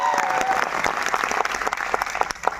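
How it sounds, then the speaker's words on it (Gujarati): A crowd at a women's business gathering claps loudly and continuously for their leader, dense applause that thins toward the end. "अपना लीडर सरतन सर માટે એકવાર જોરદાર તાળી થઈ જાય।"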